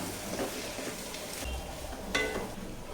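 Shredded cabbage being stirred into scrambled egg in a frying pan for cabbage egg thoran, a soft sizzle under scraping spatula strokes with a sharper clink of utensil on pan.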